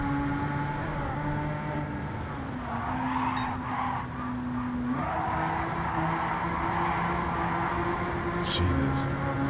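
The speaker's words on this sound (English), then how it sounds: "It does kind of slide a little bit, but you really, really have to force it." In Gran Turismo 7, a car on sports hard tires slides with a sustained engine drone and shifting pitch as revs rise and drop, tire squeal and skidding under it, while a person talks over the game sound.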